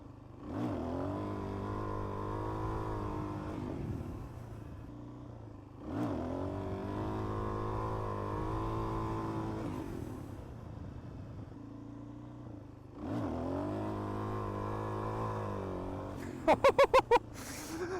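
A motorcycle engine labours during wheelie practice in three long sustained drones that hold pitch rather than rising, separated by quieter gaps, with a few sharp clicks near the end, no talking.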